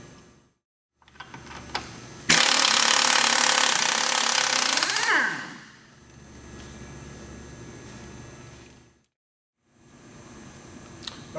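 A breaker bar and 30mm socket loosen the axle nut on a VW MK4 front hub: a loud, sustained grinding, straining burst of about three seconds stands out between quieter stretches of workshop clatter.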